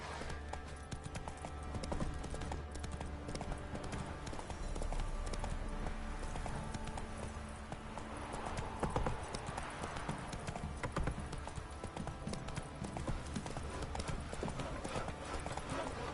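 Steady hoofbeats of a horse galloping in The Witcher 3 on PS4 keep a continuous, even clip-clop rhythm for the whole stretch, moderately loud against a busy game soundscape, with no speech.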